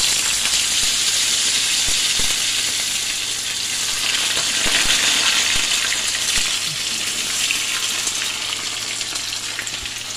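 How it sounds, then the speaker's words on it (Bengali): Potatoes fry in hot oil seasoned with panch phoron five-spice and bay leaf, giving a loud, continuous close-up sizzle with occasional faint clinks and scrapes throughout. "এবারে আলু ছেড়ে দেওয়া হবে।"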